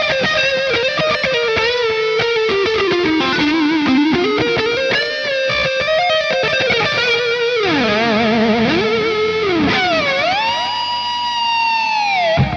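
A distorted electric guitar lead, played through a Mooer GE200 Plus multi-effects unit with plate reverb and analog delay, sings sustained, bending notes and slides, with long echoing tails filling the space between phrases.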